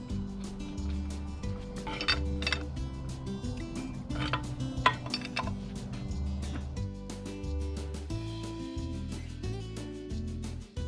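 Metal parts clink and tap sharply while the oil pump is pulled from a 4R70W transmission, the scattered knocks landing over a steady low background hum.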